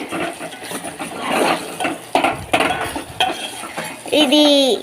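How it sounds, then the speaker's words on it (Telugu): Ladle stirring beaten eggs in a pan for egg fried rice, a steady run of scraping and clinking against the metal with busy clatter throughout, close and fairly loud. "ఇప్పుడు ఇది గరిటె తీసుకొని బాగా మిక్స్ చేయాలి"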